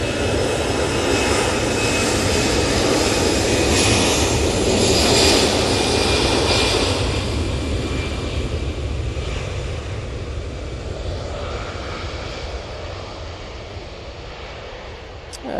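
Orange airliner taking off from Manchester Airport bound for Belfast, a loud sustained jet engine roar heard from a distance that slowly fades as the aircraft climbs away.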